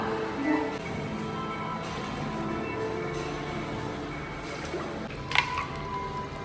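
Bare feet wade through alternating warm and cold water over small pebbles on a Kneipp path at a spa in Mukachevo, making soft squishing, sloshing and dripping sounds, steady and low, with a brief sharper splash near the end.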